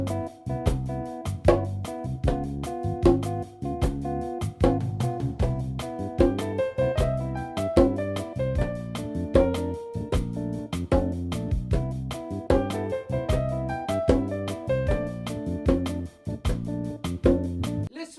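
Conga llamador rhythm played over a Brazilian samba song, steady repeated drum strokes riding a full band backing track throughout, loud and busy.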